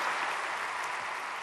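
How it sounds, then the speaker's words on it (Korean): Warm church audience applause welcoming a pastor at a prayer meeting for peaceful reunification, a brief, steady wash of clapping. "우리 목사님 박수로, 뜨거운 박수로, 부활의 박수로 환영하시겠습니다"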